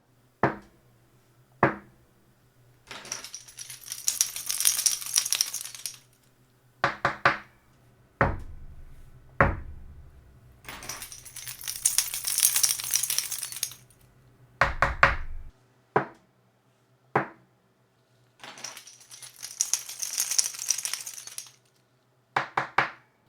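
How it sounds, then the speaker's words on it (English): A hand strikes a tabletop in sharp, isolated knocks, and keys are shaken in bursts of bright metallic jingling a few seconds long. Knocks and jingles alternate at close range, with no talking. "I'm hitting my table and then making some extra noise using my keys."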